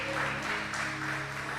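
A church congregation applauds in a dense, steady wash of clapping that fills the whole short moment. It comes right after a preacher's call to praise God.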